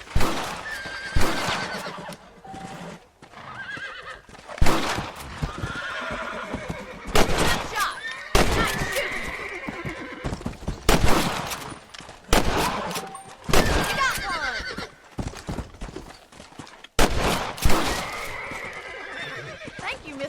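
Rifle gunshots in Red Dead Redemption on PlayStation 3, fired while hunting rabbits on a ranch: sharp, loud cracks that come in separate bursts. Horse whinnies, clip-clopping hooves and voices fill the gaps between them.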